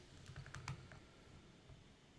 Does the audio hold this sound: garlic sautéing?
no